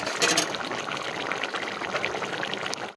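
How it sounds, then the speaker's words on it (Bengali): Water pours steadily into a bottle for about three seconds, a bright continuous splashing and trickling close by, with no talking over it. "জল ঢাললো বোতলে দিল ছেলেকে"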